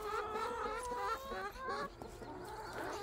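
Several chickens cluck in short, overlapping calls, fairly close, with no talking.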